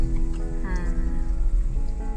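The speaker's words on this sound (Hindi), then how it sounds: "बहुत बारिश है" Heavy rain pours steadily near a resort in Ziro valley, Arunachal Pradesh, as a dense, even hiss with someone speaking over it.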